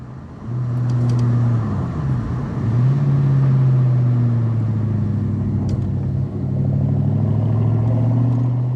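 A 1996 Ford Mustang SVT Cobra with the 4.6 V8 and about 74,000 miles, heard from inside while driving: a loud, steady engine drone whose pitch rises and dips with throttle and shifts.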